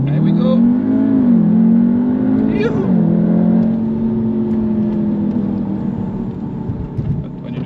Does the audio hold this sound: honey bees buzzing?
no